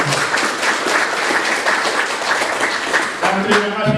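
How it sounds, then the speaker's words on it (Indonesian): An audience applauds at a PKB party meeting in Papua, a dense, fairly loud wash of clapping from many hands with no distinct rhythm, ending with a voice speaking over the last moments. "Mari kita buat aplaus untuk Bapak Ibu."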